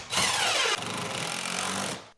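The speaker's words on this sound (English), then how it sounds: "So now I can put the rest of the screws and we should be good." Power drill driving screws into green board around a bathtub, a loud close whine lasting about two seconds with a pitch change as the screw seats.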